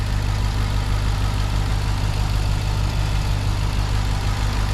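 The 6.2-liter V8 of a 2021 Ram 1500 TRX AWD idles smoothly and continuously nearby, a deep steady rumble with no talking over it.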